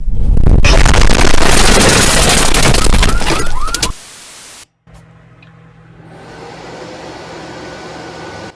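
An old Windows XP–era desktop PC roars loudly at power-on, a dense broadband fan whoosh lasting about four seconds before cutting out briefly, then settling into a quieter steady hum with faint tones.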